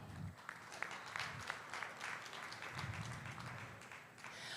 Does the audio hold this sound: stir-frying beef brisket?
no